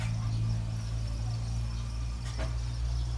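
Crickets chirping steadily in a continuous high-pitched trill, close and fairly loud, over a low background hum, with no voices, at a bird farm in Lopburi, Thailand.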